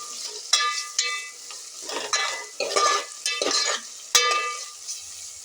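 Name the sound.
vegetables being sautéed in a pan for vegetable biryani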